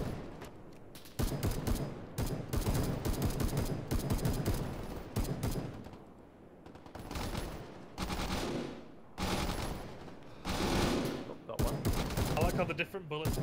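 Bursts of gunfire in the ARMA 3 multiplayer military shooter crack out in repeated volleys, some rapid and automatic, separated by short quieter gaps.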